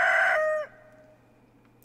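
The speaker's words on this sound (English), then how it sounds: "Oh, chicken." A chicken in Stardew Valley gives one bright, sustained squawking cluck that cuts off sharply, followed by near silence with a faint click at the end.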